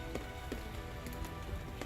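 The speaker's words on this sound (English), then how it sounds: "we've got that soft, gentle rain. It just continues to fall." Soft, gentle rain falls steadily outdoors as an even, hushed patter with faint scattered drop taps and no voices.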